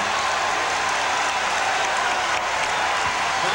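Arena crowd at a Bulls versus SuperSonics 1996 NBA Finals basketball game, a dense continuous roar of cheering and applause filling the whole moment at steady loudness.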